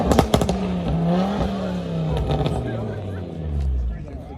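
A loud BMW with a downpipe revs at a car meet, its engine note rising and falling through several pulls amid crowd chatter and nearby voices.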